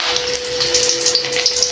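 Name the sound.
curry leaves frying in hot oil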